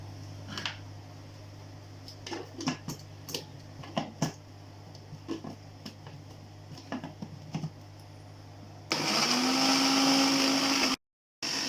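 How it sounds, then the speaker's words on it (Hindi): Light scattered clicks and taps give way to a loud, steady electric blender whir as garlic sauce with lemon juice is ground, cutting off abruptly near the end before briefly restarting. "अब हम लेमन का रस डाल के फिर ग्राइंड करेंगे इसको"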